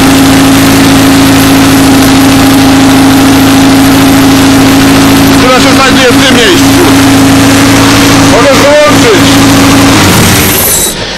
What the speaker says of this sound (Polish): opóźniamy i wyraźnie słychać jak silnik zwalnia